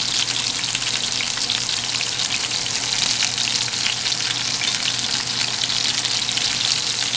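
Beef searing in a cast iron Dutch oven at a camp cookout, giving off a loud, steady, crackling sizzle that holds evenly from start to finish with no voices.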